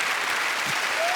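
Studio audience applause at a Swiss TV music show, a steady dense wash of clapping throughout the brief moment, fairly loud and even, with no talk over it.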